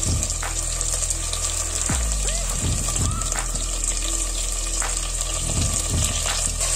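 Chicken hitting a pot of frying onion, garlic and ginger paste, a loud, close, continuous sizzle and crackle with a burst of hissing as the pieces go in, no talking.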